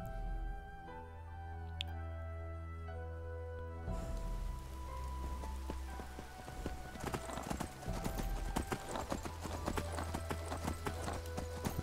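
Horse hooves clop rapidly on the ground as a mount gallops in the video game Skyrim, a dense, quick rhythmic patter that grows busier after a few seconds over a low game backdrop.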